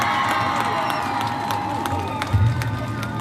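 Audience at a virtual 4-H livestock expo for market rabbits gives a round of applause and cheering after a quiz answer. The crowd noise is lively, with whoops and shouts rising briefly near the end.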